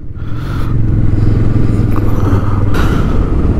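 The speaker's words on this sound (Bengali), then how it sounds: "পরপর লাইন আপে কিন্তু সব কটা বাইক চলছে, বেশ দেখতে লাগছে" Several motorcycles ride one after another in a line on a bike tour from Kolkata to Ajodhya Pahar, their engines making a steady, close, loud drone throughout with no talking.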